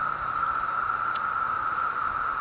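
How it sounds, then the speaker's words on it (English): Seventeen-year periodical cicadas droning in a garden, a steady, unbroken high whine holding one pitch in the background, with a couple of faint brief clicks. "It's 17-year locust time, so you can hear the locusts in the background."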